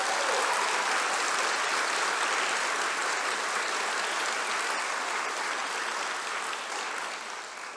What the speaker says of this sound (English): Please join me in expressing our gratitude for his years of exceptional service with a big round of applause for Dr. Markowitz